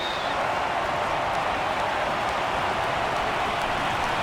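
A stadium crowd of more than 37,000 roars as the Marlins clinch the World Series in Game Six against the Yankees, a loud, sustained wash of cheering and clapping filling every moment without letup.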